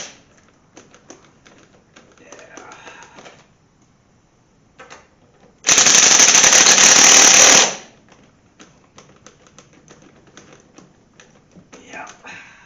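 An impact wrench zings lug nuts down on a car wheel fitted with Kragers wheels in one loud, steady burst of about two seconds, with quieter shop noise and talk before and after.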